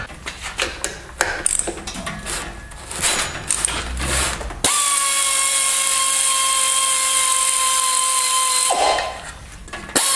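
Work on the fan clutch of a 1990 Mustang 5.0 LX hatchback brings a burst of close clicking ratchet strokes and tool knocks, then a loud, steady whining power tool for about four seconds before the clicking resumes.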